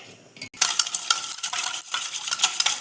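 Sugar and yeast being mixed into naan dough ingredients in a bowl, giving a steady run of scraping, clinking stirring noises close by, starting after a brief pause and continuing without talk.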